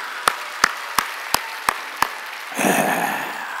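A Korean church congregation at a Sunday worship service, first clapping in six evenly spaced sharp claps, then breaking into a dense burst of applause that carries on to the end, no speech over it.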